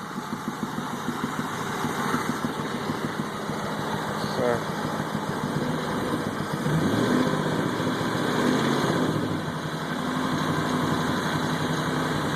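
Cold 1927 Ford Track T engine idling close by with a fast, even mechanical chatter and steady drone, with someone talking over it part of the time.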